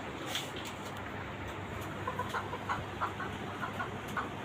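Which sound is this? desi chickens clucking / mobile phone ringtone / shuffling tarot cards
desi chickens clucking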